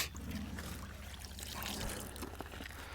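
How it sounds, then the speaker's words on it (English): Water being poured from a wheelbarrow to wet down redworm bedding, a steady splashing trickle running close by throughout with no talking. "And I'm wetting all this right now."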